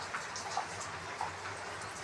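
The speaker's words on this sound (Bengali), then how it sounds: "তা দেখছেন আমাদের এখন বৃষ্টিটা একটুখানি হচ্ছে" Light rain falls outdoors after a hailstorm, a faint soft patter with a few scattered drips standing out, distant and gentle, with no one speaking.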